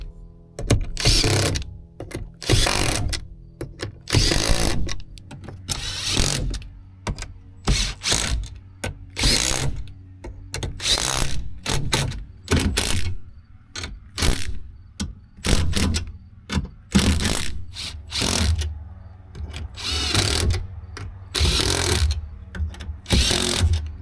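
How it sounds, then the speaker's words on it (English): Bolts on the brackets of a van's elevator bed are driven tight with a power tool, in repeated loud whirring bursts with ratcheting clicks between them, close by and without talk. "and then you tighten down the bolts"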